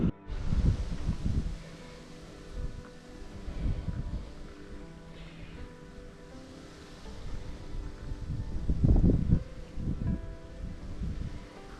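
Strong mountain wind in the Apuseni mountains gusts against the microphone in uneven low rumbling buffets that swell and fade, loud and close, with no talk.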